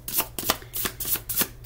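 A deck of tarot-style cards is shuffled up close in short, rhythmic riffling bursts, with no voices.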